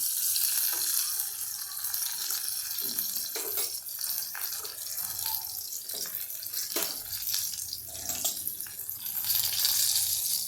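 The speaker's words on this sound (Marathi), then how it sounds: "आता थोडेसे आपण हे ट्रान्सपरंट करून घेऊया तेलामध्ये" Shallots fry in oil for a Kerala shallot sambar, giving a steady close sizzle and crackle that runs without a break, with brief clinks now and then and no talking.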